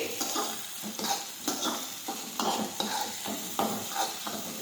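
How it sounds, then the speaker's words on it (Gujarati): Urad dal and chopped ginger sautéing in a pan, with repeated scraping stirs of a spoon over a soft, steady sizzle, fairly quiet and without talk. "હવે આપણે સાતરી લઈશું આ રીતે થોડી વાર આપણે સાતરી લઈશું આ રીતે"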